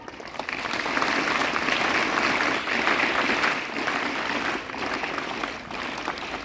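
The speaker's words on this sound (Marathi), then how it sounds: "सर्वांनी 3-3 टाळ्यांचा गजर होऊ द्यायचा" A school audience claps together, sustained dense applause from many hands that holds steady for several seconds and eases slightly toward the end, with no speech over it.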